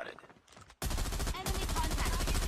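Rapid bursts of M-16 automatic rifle fire in Call of Duty Mobile, loud and dense, crackle continuously after a brief quieter opening with faint background game sounds.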